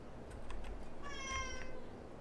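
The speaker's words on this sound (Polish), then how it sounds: "On chce wyjść, żeby chodzić po domu i miauczyć i budzić dziecko po prostu." A house cat meows a few times, drawn-out and moderately close, over a quiet background with faint clicking like keyboard typing earlier on.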